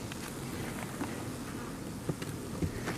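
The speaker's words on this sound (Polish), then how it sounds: "Pszczoły zachowują się bardzo grzecznie." Soft buzzing of Caucasian honeybees hums around at the hive in the background, with a few faint taps and rustles, no talking.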